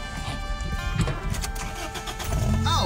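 A car engine cranks and struggles to catch, with a loud, steady churning and mechanical noise running throughout, rising toward the end as it nears firing.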